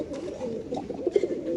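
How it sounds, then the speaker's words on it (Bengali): A male pigeon coos from a cage among pigeons kept for sale, its soft, throaty rolling calls repeating close by in a low murmur, with faint background noise. "খুব সুন্দর নরের ডাকটা দেখাই দিই"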